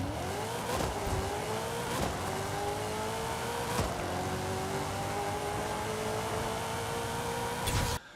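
Buick Regal drag car in Forza Horizon 5, its engine droning loudly and steadily while the pitch climbs slowly through a long pull, with a few sharp shift clicks and no talk.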